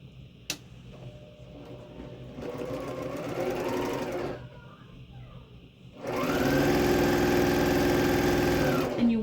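Sewing machine stitching aqua and green fabric strips together in two steady whirring bursts of a few seconds each, with a quieter pause between them and a small click near the start.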